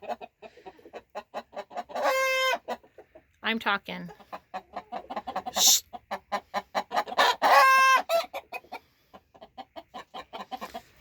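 Several young roosters crow and cluck close by among hens in a backyard coop, with repeated rhythmic clucks throughout and two long harmonic crows; a person speaks briefly over the birds.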